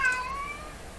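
A cat lets out one short, clear meow close by in a quiet room at home, fading quickly with no talking.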